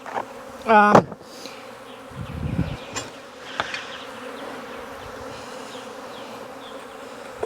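Honeybees buzz in a low, continuous hum close by while honey supers are removed, with a few louder passes and scattered handling noises.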